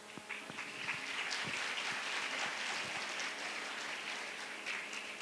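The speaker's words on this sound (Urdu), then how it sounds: "ان کی حوصلہ افزائی تالیوں سے کیجیے گا" A school-event audience at an inter-school Iqbal Day competition finale applauds the schoolchildren with steady, dense clapping that holds for about five seconds, filling the space at an even level.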